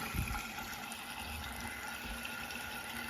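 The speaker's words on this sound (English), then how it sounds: "I'm running the hot water." Hot water runs from a sink tap into a drain being cleared of a clog, a steady soft hiss and trickle that stays even and fairly quiet, with no voices over it.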